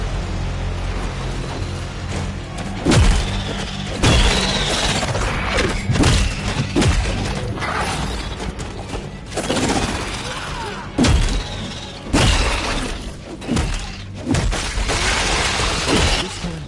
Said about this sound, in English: We can channel it into shattering blows.